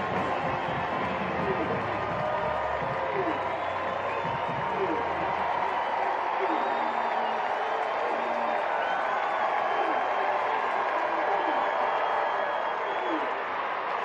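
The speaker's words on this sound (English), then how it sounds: "This crowd is up on its feet." A college football stadium crowd at an Alabama State Hornets vs UAB Blazers game roars on its feet, a loud, sustained cheering wash with faint applause that stays steady throughout.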